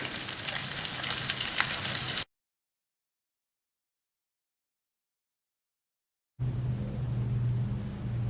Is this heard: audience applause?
no